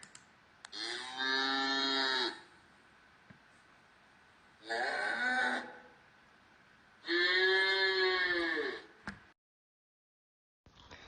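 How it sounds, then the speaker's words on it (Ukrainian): Cows moo three times, long, loud drawn-out calls separated by short pauses, with a few faint clicks in between. "мою хату окупірували корови"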